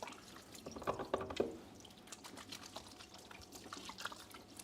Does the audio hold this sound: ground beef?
no